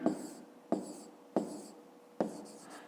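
Pen strokes on paper while working a fifth-grade maths exercise, four quick scratchy bursts in a regular rhythm, close and quiet, with no talking.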